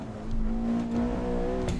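A car engine in a driving video game revs during rev matching, a sustained tonal whine that holds and shifts slightly in pitch, moderately loud and uninterrupted.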